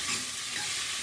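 Chopped onion stirred and fried in a pan alongside garlic, a base for a black gram and kale soup, giving a brief, steady close-up sizzle with soft scraping of the stirring.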